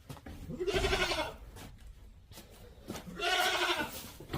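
Goats bleat nearby in two loud, wavering calls, one near the start and another toward the end, separated by a short quiet gap.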